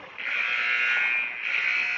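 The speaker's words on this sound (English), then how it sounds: "they're beeping the horn for the refs to wake up and get out of their locker room" A horn beeps inside an ice hockey rink: two loud, sustained buzzing blasts, the first long and the second starting after a brief dip, ringing clearly with no talking.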